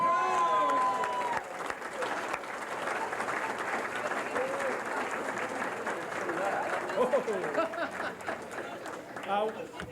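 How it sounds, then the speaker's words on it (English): A crowd at a 1996 Good Guy Award presentation claps and cheers at length, a broad, moderately loud wash of applause with chatter and occasional whoops throughout. "Give a big cheer for Jim Buckley."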